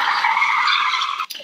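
A Mazda Miata rental car skids with a loud, sustained tire squeal lasting over a second, cutting off briefly near the end before resuming.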